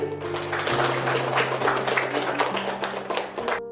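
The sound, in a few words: audience applause at a workshop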